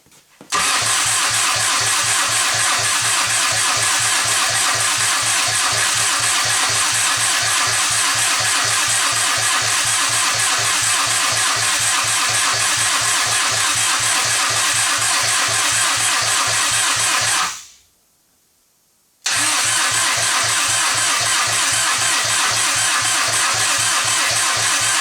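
A TDI diesel engine swapped into a Wrangler cranks on the starter through a toggle-switched solenoid, a loud, rapid, even chugging that runs for about seventeen seconds, stops briefly, then resumes.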